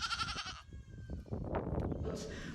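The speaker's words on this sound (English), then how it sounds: "Nigerian Dwarf goats" Nigerian Dwarf goats on a homestead give a short, nasal bleat up close, followed by scuffling and rustling movement with another faint bleat at the end.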